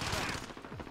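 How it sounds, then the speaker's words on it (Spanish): Gunfire in the video game Call of Duty: Modern Warfare, a quick burst of shots at a distance, fairly faint and dense, within about a second of game noise. "Está disparando de lejos"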